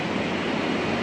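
An MRT train rumbles along the elevated line overhead, a loud, continuous roar with rail noise heard from beneath the tracks, no voices over it.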